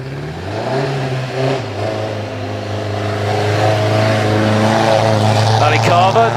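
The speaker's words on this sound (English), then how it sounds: "Ali Carver, number 67 in the Aston Martin Works Racer, comes into semicircle now" A vintage 1.5-litre Aston Martin Works racing car accelerating at the Prescott hill climb, its engine note rising steadily and growing louder as it approaches, with a commentator talking over it.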